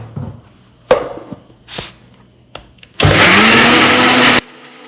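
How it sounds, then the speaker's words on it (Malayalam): A kitchen blender whirs loudly for about a second and a half, blending cold coffee with sugar, after a few clicks, knocks and handling sounds. "ഇത്രയും ഇതൊന്ന് ബ്ലെൻഡ് ചെയ്തെടുക്കാം"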